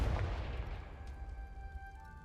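Confringo blasting spell going off in Hogwarts Legacy, a loud low boom at the start that rolls off into a rumbling tail, with faint sustained game tones lingering above it.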